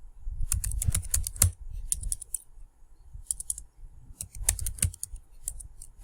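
Keys tapped on a computer keyboard while code is entered, in quick bursts of clicks separated by short pauses, close and fairly clear.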